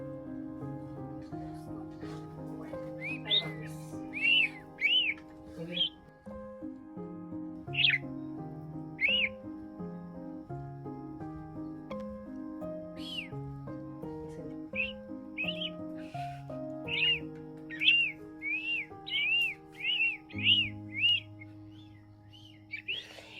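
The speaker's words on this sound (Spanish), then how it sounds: "así como pueden ver a este bonito pajarito, es muy travieso y muy berrinchudo" A small pet bird gives repeated short, bright chirps and whistles in scattered bursts, fairly close, over gentle background music.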